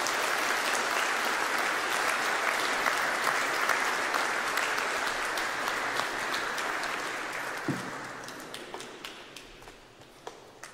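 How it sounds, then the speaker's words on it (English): A church congregation at a Sunday Eucharist claps loudly and continuously, the applause gradually thinning and fading toward the end with a few scattered claps. "Let's give them a big round of applause."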